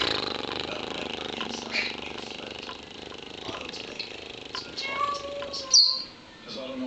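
A cat meows a few times in the background, faint and somewhat distant, with a louder cry near the end amid room noise.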